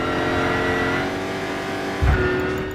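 Racing car engine in the Gran Turismo 6 video game on PS3, a steady sustained drone with a lower throaty surge near the end, loud and continuous with no talking.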